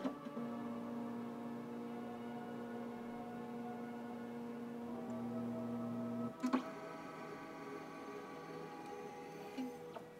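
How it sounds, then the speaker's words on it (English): An Epson flatbed scanner runs a preview scan, a quiet steady motor whine and hum that shifts pitch as the carriage travels, ending with a clunk and a couple of faint ticks. "let's open up our scanning software and do a preview scan"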